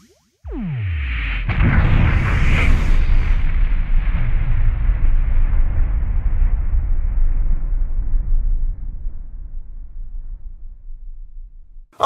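A massive explosion sound effect depicting the Big Bang erupts with a sudden loud boom, then a long, heavy rumbling roar that lingers for about ten seconds before ending abruptly.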